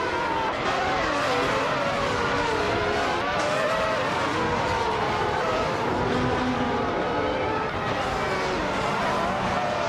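Race car engines roar continuously in a racing video game as AI cars push flat out, a dense, loud engine drone with tire noise that runs unbroken throughout.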